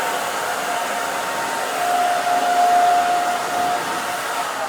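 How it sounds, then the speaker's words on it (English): A handheld hair dryer blows steadily while styling short, spiky hair, its airy whoosh close and constant with a thin whine rising briefly midway. "I like to bring the dryer kind of back in this way, just to give it that lift on the top."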